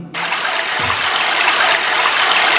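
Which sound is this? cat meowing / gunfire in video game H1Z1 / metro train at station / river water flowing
river water flowing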